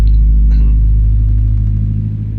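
A car engine in Euro Truck Simulator 2 rumbles low and steady, a heavy droning hum that slowly fades slightly toward the end.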